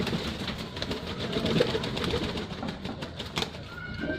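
Pigeons coo softly during a bath, a low murmuring texture that stays steady for a few seconds over splashing and rustling, with brief wing flutters.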